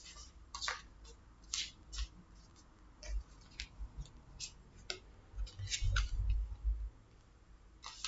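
Bélines divination cards handled and drawn for a cross-shaped spread, giving faint, irregular dry clicks and taps of card handling with small low bumps, close and quiet.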